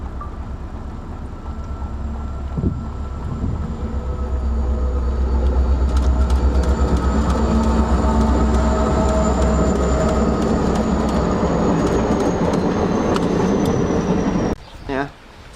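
Steam locomotive C&O 614 rumbles past close by for a long stretch in Lancaster County, heavy low roar with rattling wheels and a high whine, ending abruptly.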